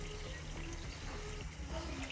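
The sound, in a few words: water being poured into a pot for tamarind plum sharbat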